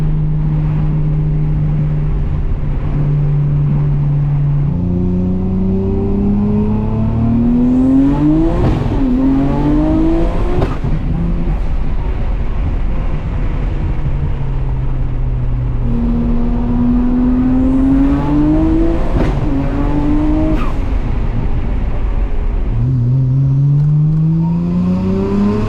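A Nissan R34 GTR engine revs hard through repeated flat-foot shifts, loud rising pitch sweeps broken by brief dips at each gear change, close and continuous.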